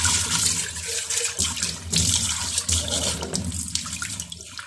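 Water pours steadily from a tap in a home where the water has just come back on and the heater is broken, a broad continuous rushing with small fluctuations and no talking.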